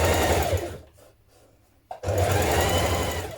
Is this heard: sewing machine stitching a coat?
yes